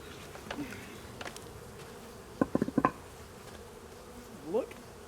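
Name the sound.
honeybees buzzing at a hive during inspection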